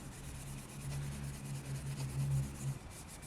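A fine scuff pad rubs across a 1994-1998 Mustang body panel, giving a steady, close, soft abrasive swish with gentle surges in pressure and no talking.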